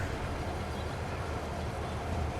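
A train rolls along in a farming video game with a steady, low rumbling hum that holds level for the whole moment. No other sounds stand out.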